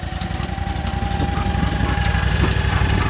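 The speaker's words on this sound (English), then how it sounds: "This is the boat captain, Blitz, who's got our engine fired up." A 35 horsepower mud boat engine idles close by with a steady, loud, pulsing chug that builds slightly in volume, and no voices are heard over it.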